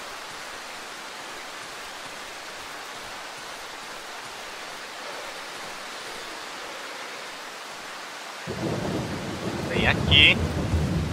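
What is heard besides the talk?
rain and thunder in video game Darkwood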